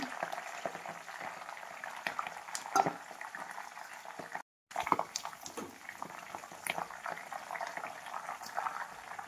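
Curry leaves and hibiscus leaves sizzle in hot oil in a pan, a continuous crackling fry with scattered pops, moderately close and steady, cut by a brief gap partway through.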